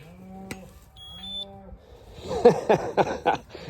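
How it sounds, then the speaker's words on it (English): A cow gives a couple of short, low moos, followed by faint beeps and then a burst of busier, clattering noise. "We want to do this cow here."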